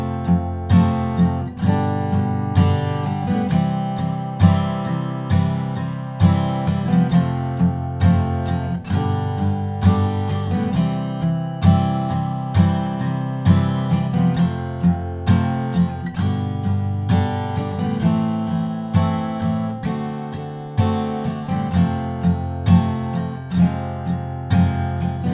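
An acoustic guitar strums the chorus chords of Bruno Mars' When I Was Your Man in a steady rhythmic pattern, with even repeated strokes and chord changes, played alone and up close.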